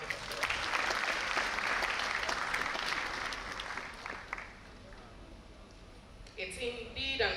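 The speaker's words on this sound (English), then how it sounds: "Please give him another round of applause." A hall audience gives a sustained, dense round of applause for Provost Professor Charles Marfo at a milestone anniversary ceremony. The clapping fades after about six seconds and a voice begins speaking.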